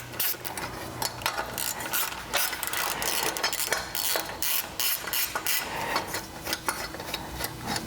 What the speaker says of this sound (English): the first thing we're going to do is take this dust shield off, which is two 8mm bolts, or 8mm headed bolts,